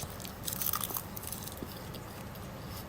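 Someone bites and chews crunchy food made from 7-Eleven ingredients, giving close, quiet crunching bites that fade into softer chewing with no talking.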